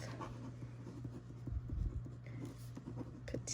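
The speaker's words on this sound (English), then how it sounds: "I'm gonna write size 3-month" Pen on a paper sewing pattern as a size label is written, a soft, continuous scratching with small stroke bursts, close up and quiet over a low steady hum, no talking.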